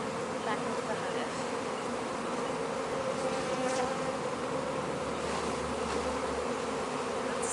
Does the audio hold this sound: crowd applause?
no